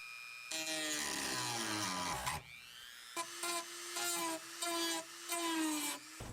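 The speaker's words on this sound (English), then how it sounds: "This little alignment tooth for the old tubing gets in the way of the new coupler, so I'm going to remove that material with the Dremel" A Dremel rotary tool grinds a plastic alignment tooth off Hummer H3 intake tubing, a loud high whine that starts, cuts out briefly, then returns in several short bursts with shifting pitch, no talking.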